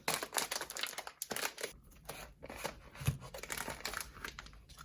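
Plastic blind bag packaging from a 2022 holiday collectible bean series being torn open by hand, with a close crinkling and ripping that comes in several bursts and is followed by a few lighter rustles.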